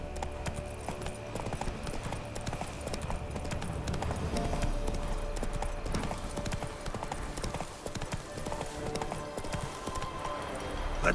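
Horse hooves galloping in a steady rapid clip-clop rhythm in The Witcher 3 game, the hoofbeats running continuously under a busy mix of ambient game sound with no talking.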